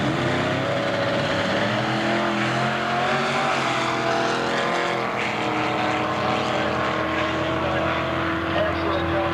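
Drag race cars roar down the strip at the 1997 Wildhorse Gambler's Choice Classic, a loud sustained engine blare filling the whole stretch, with a commentator's voice mixed into the noise.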